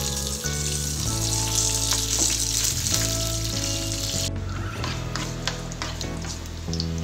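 Garlic, dried red chillies and curry leaves fry in hot oil for a tempering, a loud continuous sizzle with crackling pops throughout, no voices.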